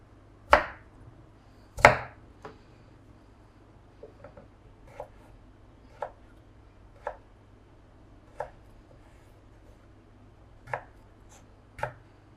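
Knife chopping peeled potatoes into French fry strips on a board, sharp isolated thuds spaced about a second apart, two louder strikes at the start, close and clear in a quiet room.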